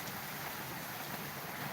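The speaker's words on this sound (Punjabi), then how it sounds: "ਬਹੁਤ ਹੀ ਜ਼ਬਰਦਸਤ ਬਾਰਿਸ਼ ਹੋ ਰਹੀ ਹੈ ਜੀ ਇੱਥੇ ਅੱਜ" Heavy rain pours in a steady, even wash of hiss that is faint and distant, with no voices and no breaks.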